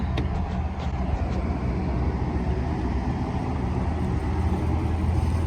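A cheap, rusty GMC 2500 pickup with a 6.0 engine and worn suspension reverses at an auction lot, producing a continuous low engine rumble up close that holds steady throughout, with no voices.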